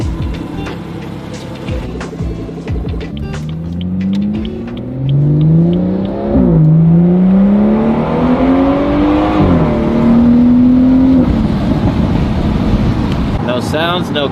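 A BMW 340i engine revs and rises in pitch through several gear changes as the car drives, steady and fairly loud.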